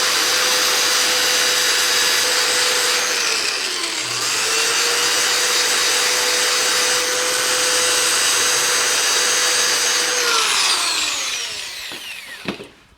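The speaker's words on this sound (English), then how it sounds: "We're just going to take the power sander," Power sander whining steadily against a turned wooden Christmas tree box, a loud continuous drone that shifts pitch around four seconds and winds down near the end, with no talking.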